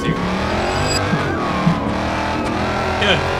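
A Hellcat-swapped SRT8 Dodge Charger in the BeamNG Drive video game, its engine droning steadily and loudly throughout, with a brief tire squeal near the end.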